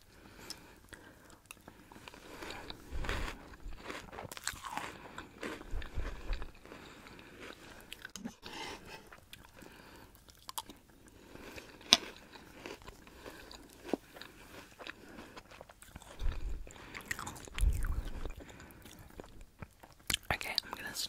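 American cereal is chewed and crunched close to the ear in slow, uneven bursts of crisp bites and soft mouth sounds, with quiet whispering between mouthfuls.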